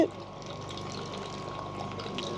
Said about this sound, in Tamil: மோட்ரு வந்து இப்போ ரன் ஆக ஆரம்பிச்சிருச்சு